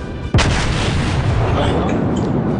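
Battleship main guns fire in the World of Warships naval game, a single sharp, loud boom followed by a long rolling rumble that fills the rest of the moment.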